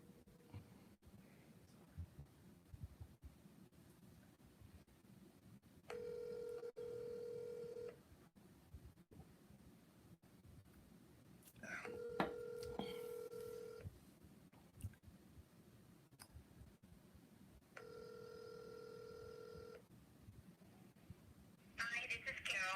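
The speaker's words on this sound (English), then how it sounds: "Make a phone call." A phone call is placed: a quick run of keypad dialing tones, then three evenly spaced ringback tones separated by quiet gaps, with a voice talking faintly in the background.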